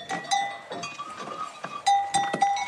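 A goat on a small farm in the Vosges bleats in short, thin cries alongside scattered clinks and knocks of a bell, fairly close with light background noise.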